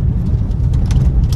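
A car engine runs with a low, steady rumble while the car is slowly moved and straightened to the right, heard close and loud with no talk.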